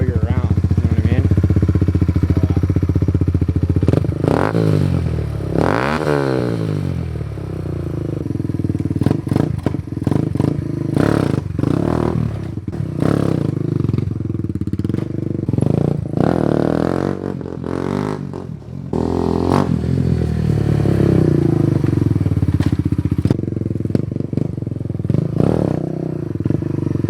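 Small 2018 Kawasaki Z125 motorcycle engine running close by, a loud steady drone with repeated revs and blips rising and falling, mixed with mechanical clatter and thumps, while a person talks over it at times.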